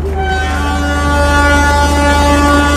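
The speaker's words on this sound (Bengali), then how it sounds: "সামনে থেকে কোনো ট্রেনের হংকিং শোনা যাচ্ছে" A train horn ahead sounds one long, loud, sustained blast with steady tones, heard from a train travelling between Berhampore and Ujjain.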